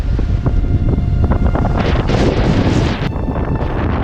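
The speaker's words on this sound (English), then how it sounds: "All of a sudden, the wind is gusting at 40 knots." Strong wind gusting at 40 knots on Tasmania's east coast roars and buffets the microphone in heavy gusts, with loud rumbling bursts and a hissing rush of air.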